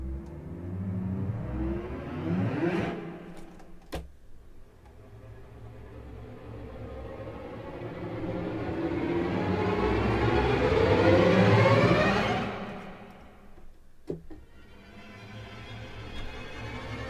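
String riser effects from the Angel Strings orchestral library by Auddict, swelling layers of bowed tones that climb in pitch and build to a loud peak before cutting off, with a few sharp transients between phrases.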